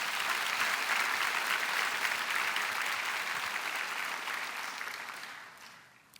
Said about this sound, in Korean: 우리 그 하나님 앞에 영광의 박수 한번 올려드립니다.